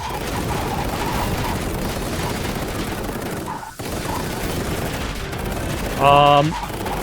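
Rapid gunfire in the shooting section of the video game The Takeover, steady automatic bursts running throughout at close range with a brief pause, then a short tonal game chime near the end; no one speaks.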